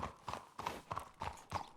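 Horse hooves clip-clopping in the Red Dead RP video game, a quiet, steady rhythm of paired hoof beats repeating at a riding pace.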